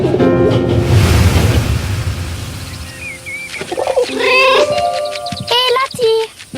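Cat meowing in the video game 11-11 Memories Retold, several close mewing calls following a surging swell of ambient sound, with soft bird-like coos mixed in.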